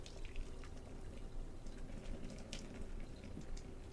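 Pasta water from cooked penne pours out of an 8-inch pot past a held lid, a steady liquid rush with faint splashes and drips running continuously at moderate level.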